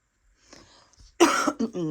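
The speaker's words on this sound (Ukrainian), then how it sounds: "я продовжую кашляти, вибачте" A quiet breathy lead-in, then one sharp, loud cough followed by a short voiced rasp, close to the listener.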